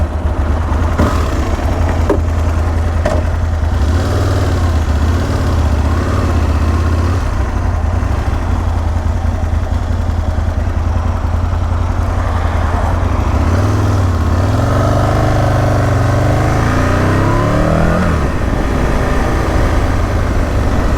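An Aprilia RSV Mille R motorcycle engine idles loud and steady close by, its throbbing exhaust note rising in occasional revs, with no talk over it.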